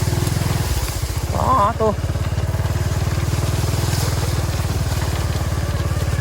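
A motorcycle thuds along a rough farm track, its engine putting out a steady, pulsing low chug throughout, close and loud, while someone talks briefly over it near the start.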